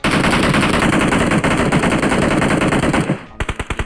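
Automatic gunfire in the mobile battle royale game PUBG Mobile, a loud, dense burst of rapid shots lasting about three seconds, followed after a brief gap by a slower string of distinct, punchy single shots.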